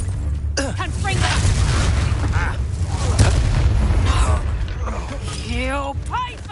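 A Confringo fire spell bursts in a heavy, rumbling explosion during a combat battle in Hogwarts Legacy on PS5, loud and sustained under shouted voices of the fighters.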